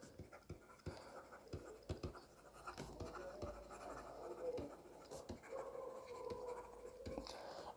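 Pen writing on paper while working through an accounting exam answer, faint close scratching strokes in short irregular bursts, with soft tapping and a quiet background.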